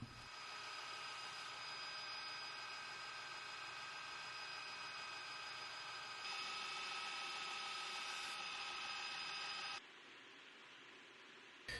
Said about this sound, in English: here we go, hitting it up on the 160 Gator Grip belt